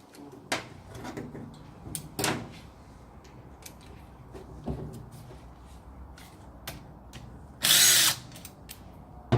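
A power tool backs out a 12 millimeter bolt from a CVT pump in a workshop. Scattered clunks and handling knocks come first, then one short, loud burst of the tool spinning near the end.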